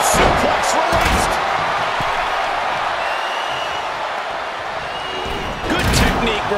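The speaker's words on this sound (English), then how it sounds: "German suplex released." A German suplex slam lands in a WWE 2K24 tag team match, Team Kane versus Team Undertaker, as a loud body impact. It is followed by steady, roaring arena crowd noise, with bursts of cheering near the start and end.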